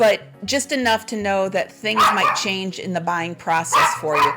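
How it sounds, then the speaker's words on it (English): A pet dog barking at home, short yips and barks mixed in beneath someone talking steadily, close but partly covered by her voice. "Sorry if you can hear my dog barking there"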